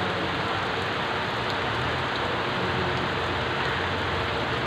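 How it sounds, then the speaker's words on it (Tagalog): Steady rain falls in the garden outside the Aguinaldo Shrine, a dense, even hiss of drops on surfaces with no gaps, loud and close throughout. "Umuulan kasi. Patilain lang natin itong ulan."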